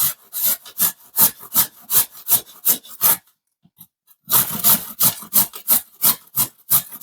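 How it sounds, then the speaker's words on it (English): Fresh ginger is rubbed hard against the rough side of a hand grater in quick rhythmic rasping strokes, close and loud, with a brief pause midway before the scraping resumes. "Next up, you're going to get a grater. And we're going to use the rough side of the grater."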